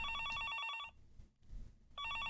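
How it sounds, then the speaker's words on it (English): A telephone rings in the video game Higurashi: Kageboushi, two bursts of trilling electronic bell separated by a quiet pause, fairly faint. "the phone began to ring."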